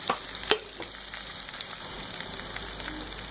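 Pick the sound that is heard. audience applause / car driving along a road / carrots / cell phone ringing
carrots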